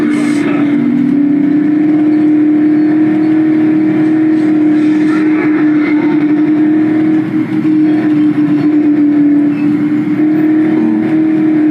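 A car driven in the zombie video game Dead Island, its engine holding a loud, steady drone that stays up front and unbroken throughout, with no talk over it.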